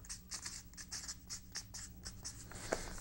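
A pen scratches quickly across paper while a comparison chart is written out, with soft rhythmic strokes and taps over a quiet background hum.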